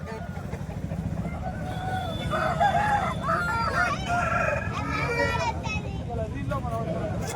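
Roosters crow repeatedly amid the steady hubbub of a busy hen market in Bhadradri Kothagudem, the calls rising over a constant low crowd murmur with voices talking throughout.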